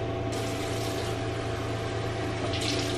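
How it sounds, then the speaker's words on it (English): Tap water runs steadily into a sink, a continuous close splashing rush with a low hum beneath it, with no pauses and no voices. "Literally all I do to wash my face is just run it under water."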